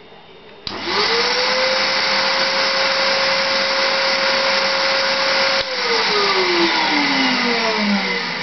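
A Henry vacuum cleaner switches on and runs loud and steady, its motor whine rising to a constant pitch, then dropping and winding down near the end while the suction noise continues.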